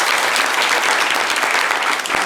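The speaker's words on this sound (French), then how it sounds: "Junior, applaudissez pour Junior." Loud, close applause from a studio audience on a French-language live show, dense rapid clapping that stays steady and full for the whole short stretch.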